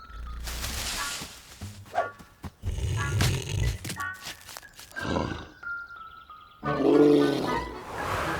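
A cartoon bear from the Leo and Tig animated series gives several deep, growling roars in short outbursts, mixed with other cartoon sound effects and a whistling tone.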